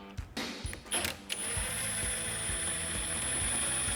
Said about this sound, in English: then we're going to go ahead and tighten the bolt